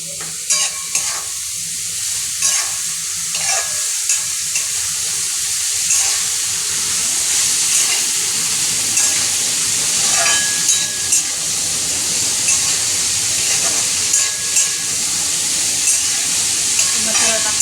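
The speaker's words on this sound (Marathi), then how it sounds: "आपण आता कोबी टाकून घ्यायचं आहे" Shredded cabbage sizzles and fries in a hot pan of spiced masala while it is stirred, a steady loud hiss with scraping stirring strokes throughout.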